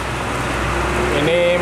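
Heavy rain pouring onto a Hino truck, a dense, loud hiss of rain through the short moment, with a voice speaking over it near the end.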